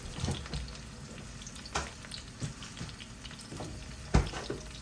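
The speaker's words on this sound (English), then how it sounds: "meanwhile, I'm gonna go ahead and get these veggies cooked up" Mushrooms and brussels sprouts stir-frying in a pan give a steady low sizzle with soft scraping stirs and a few sharper clatters, heard close up with no talking.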